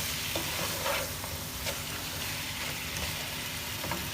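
Chicken pieces fry in oil with black pepper in a pot, giving a steady soft sizzle, with occasional stirring scrapes and clinks over medium-high heat, quiet and close, with no talking.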